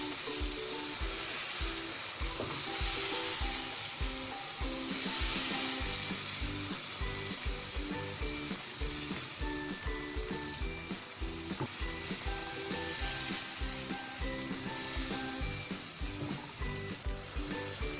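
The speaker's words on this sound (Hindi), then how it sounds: "चिकन ऐड कर देंगे। अच्छे से मिक्स करेंगे।" Chicken pieces fry and get stirred in a pan for dum chicken, a loud continuous sizzle with rhythmic scraping strokes running throughout, backed by faint steady tones.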